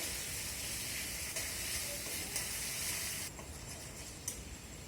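Spices sizzling in a pan: ginger, cumin, chili powder and turmeric frying with a steady soft hiss, faint and continuous, with a few light stirring scrapes.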